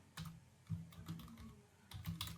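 Quiet, close typing on a computer keyboard, a few short bursts of soft key clicks in an uneven rhythm with brief pauses, no voice.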